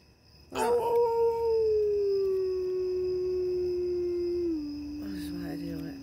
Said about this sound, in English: They start howls out here in the yard.